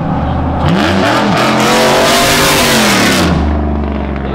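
A street-racing truck with a 5.3 V8 engine and off-road tires revs loudly up close. The roar climbs, holds at high revs, then drops back to a heavy idle, with no talk.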